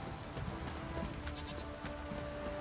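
Light drizzle falls steadily in The Witcher 3 game world, a soft continuous patter with faint hoof-like clopping mixed underneath, low and even throughout.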